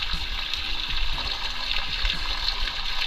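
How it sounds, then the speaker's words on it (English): Fresh water tank on a Grand Design 2800BH towable camper draining, a steady continuous gush and splash of water running out close by without a break. "Now empty all my fresh water."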